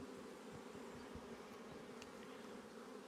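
Honey bees buzz steadily from an opened hive in early spring, a dense, continuous drone that holds at an even level throughout, with no voices.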